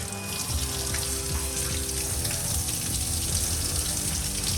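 Hot water gushes steadily from a tap, a loud, continuous splashing rush with no pauses and no talking.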